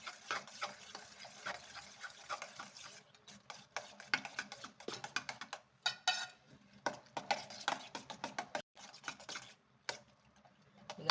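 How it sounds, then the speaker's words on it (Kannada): Beaten egg being mixed in a bowl for bread omelette, with quiet, irregular clicks and taps of a utensil against the bowl in quick bursts and short pauses. "ಮೊಟ್ಟೆ ಹಾಕ್ಕೊಂಡಿದ್ದೀನಿ ಈಗ ಇದೆಲ್ಲ ಚೆನ್ನಾಗಿ ಮಿಕ್ಸ್ ಮಾಡ್ಕೊಳ್ಳೋಣ"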